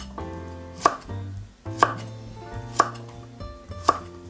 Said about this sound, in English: So let's start cutting the carrots first. So pretty much cut it a bite size.